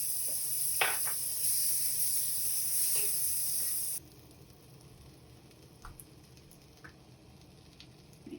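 Margarine sizzles in a hot pan with a steady, loud crackling hiss that cuts off abruptly partway through, leaving faint scattered pops and quiet kitchen noise.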